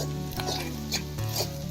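Crispy pieces fry in a pan with a steady close sizzle, broken by a few scraping stirs of a utensil against the pan.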